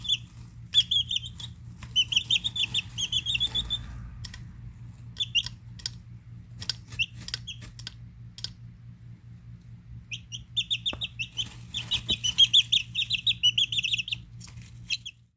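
Chicks chirping in bursts of high, rapid peeps, with quiet scratching and shuffling between calls and a low steady hum underneath.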